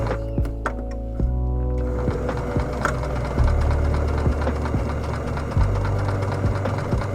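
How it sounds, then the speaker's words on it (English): A sewing machine runs a straight stitch along fabric with a fast, even mechanical chatter and thumping, close by. Brief clicks come before it starts, and it keeps running steadily to the end. "Sew the long side with a straight stitch."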